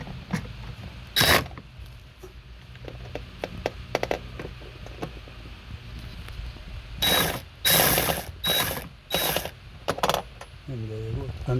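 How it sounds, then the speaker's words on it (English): A ratchet wrench fitted with a quarter-inch socket and extension loosening a bolt on a 2008 Mercedes R350 engine, giving short bursts of sharp clicking pawl ratchets, one early and a cluster of rapid strokes later, close up with quiet pauses between. "It's a quarter-inch socket here, and let's do it."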